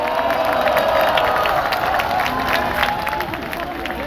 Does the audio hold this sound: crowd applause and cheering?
yes